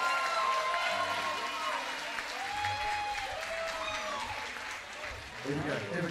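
Enthusiastic concert audience applause with whoops and cheers welcoming a performer on stage, sustained and loud, with overlapping voices and what sounds like music starting near the end.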